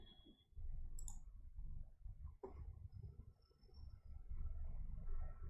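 A single sharp mouse click near the start, then another soft tap about two seconds later, faint against a quiet room hum while working in VS Code.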